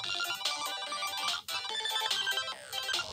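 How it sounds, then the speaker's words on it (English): An electronic phone ringtone in a Sonic the Hedgehog video plays a bright repeating melody, loud and close, with a brief pause midway before it resumes. "Wait, I hear a ringtone."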